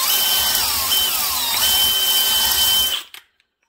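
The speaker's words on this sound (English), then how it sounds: "This is an oversized brush hone for this cylinder." A power drill spins an oversized brush hone inside a Nikasil-plated two-stroke cylinder, giving a steady close whine with slight pitch wobble for about three seconds before it abruptly stops and spins down.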